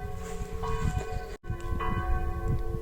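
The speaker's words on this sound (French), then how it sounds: "je vais attendre que les cloches s'arrêtent de sonner" Church bells ring continuously in a park area, their tones overlapping and ringing out loud and steady with a single brief cut partway through.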